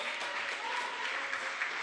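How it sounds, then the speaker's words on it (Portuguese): Church congregation applauding during a deliverance sermon, a steady dense wash of clapping at moderate level with no pauses, no voices over it. "Vamos aplaudir bem forte ao nome do Senhor"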